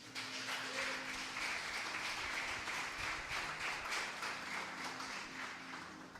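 A church congregation applauding during an evangelistic service, a steady, fairly faint patter of many hands clapping that tapers slightly toward the end, with no talk over it.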